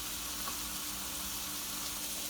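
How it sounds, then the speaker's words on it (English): Diced onion for a beef stir-fry frying in a pan produces a steady, even, hissing sizzle that holds without a break and stands alone, without talk. "we're going to add in our diced onion"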